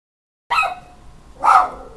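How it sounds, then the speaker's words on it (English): A dog barks twice indoors, two sharp, moderately loud barks about a second apart following silence. "My dog would start barking as soon as I unmute us."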